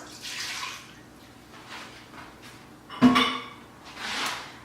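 Milk poured into a bowl of wet ingredients for an olive oil cake, soft liquid splashing and trickling in a few gentle bursts with one sharper clink of the container against the bowl, close and quiet.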